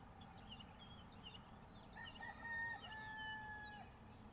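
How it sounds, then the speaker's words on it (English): A rooster crows in the distance, a long drawn-out call over a faint steady background hiss. "And the rooster agrees."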